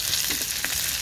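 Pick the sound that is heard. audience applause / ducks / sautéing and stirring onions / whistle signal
sautéing and stirring onions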